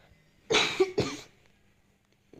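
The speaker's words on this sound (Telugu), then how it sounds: "కాస్త దగ్గు అయితే వస్తుంది." Two quick, close coughs from one person, sharp and back to back, with quiet before and after; heard while playing a truck game.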